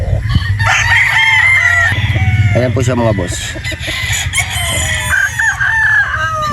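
A rooster crows loudly and close by, its long drawn-out call rising over other clucking fowl, while someone talks through it in Filipino.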